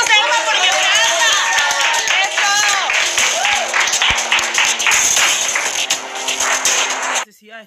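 Studio audience of a TV show clapping and applauding, dense clapping mixed with voices talking and shouting over it, then fading out at the end.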